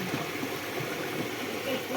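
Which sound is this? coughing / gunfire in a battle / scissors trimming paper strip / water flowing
water flowing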